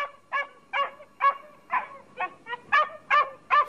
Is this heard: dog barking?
yes